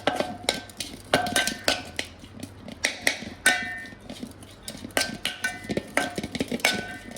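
Spoon or utensil clinking and scraping against a dish while chaat masala, chopped onion and tomato are stirred together, a steady series of sharp close taps and scrapes, some light rhythmic knocks.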